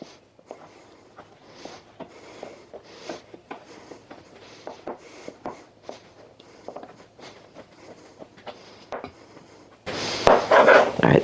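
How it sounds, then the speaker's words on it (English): A knife cuts food on a board with repeated soft taps and scrapes at an uneven rhythm, close and fairly quiet, ending in a sudden louder burst of noise. "I just rather go ahead and cut it up with a knife"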